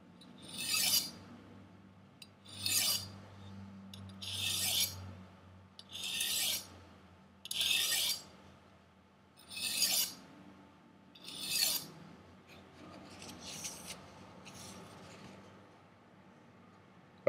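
Light passes of a kitchen knife edge across a sharpening stone, seven or eight evenly spaced rasping strokes about two seconds apart, close and fairly quiet, with no talking.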